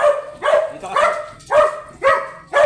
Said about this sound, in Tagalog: Ang aking chocolate na pomeranian. Maliit lang po siya.